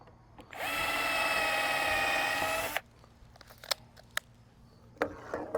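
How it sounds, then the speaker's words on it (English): A cordless drill whirs at high speed for about two seconds, steady and close, then stops, followed by a few light clicks and taps. "That was the super fast for drilling and a little slower for putting in screws"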